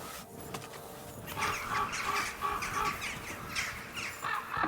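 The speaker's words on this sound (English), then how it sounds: "Oh no, the crows." Crows caw repeatedly in Kingdom Come Deliverance 2, a cluster of harsh calls overlapping at moderate distance over a low outdoor ambience.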